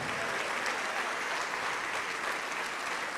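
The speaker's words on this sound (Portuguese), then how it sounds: "vamos aplaudir mais" A church congregation applauding together, a steady wash of clapping that holds at an even level throughout, fairly soft and with no voices over it.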